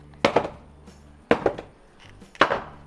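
Three sharp knife chops strike dried coconut, spaced about a second apart, each a hard crack with a short rattle after it, close and distinct against a quiet room.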